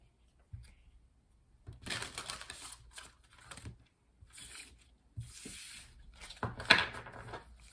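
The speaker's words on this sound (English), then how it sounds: "Let's do some shuffling." Quiet riffling and rubbing of a Moonology Oracle card deck being shuffled by hand, coming in several short papery bursts separated by pauses.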